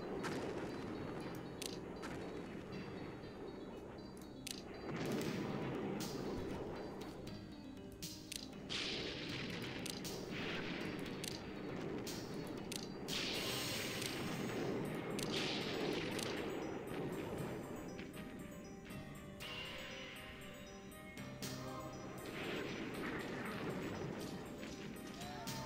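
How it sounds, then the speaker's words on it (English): An enemy airstrike in The Operational Art of War IV hits as a long stretch of distant-sounding explosions and gunfire cracks over a constant rumble, repeated irregularly, at a fairly quiet level. "Another enemy airstrike"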